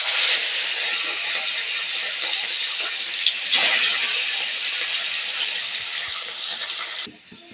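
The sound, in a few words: rohu fish frying in oil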